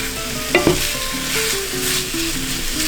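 Impossible plant-based meat cooking in a pan, a close, steady sizzle with stirring scrapes and a couple of sharper clacks near the start, no one talking.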